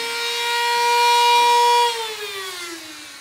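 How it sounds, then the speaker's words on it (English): A Dremel rotary tool spins up close on a foam LARP shield, a loud high tonal whine that holds steady and then winds down in pitch as it slows. "I have the Dremel tool out, it's not a bad time to do some of the little artistic things"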